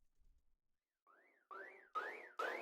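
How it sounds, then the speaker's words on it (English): A Serum synth preset plays an alarm-style rise. It is a siren-like tone sweeping up and down in repeated cycles, each cycle louder and brighter than the last as the pitch climbs, with nothing else heard. "Next up, we have our alarm rise, which is just a Serum preset from Evo Sounds again."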